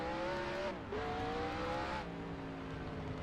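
A race car in an All Star Race qualifying run brakes hard to enter pit road. The engine note drops in steps as it slows, with a brief dip between, loud and close throughout.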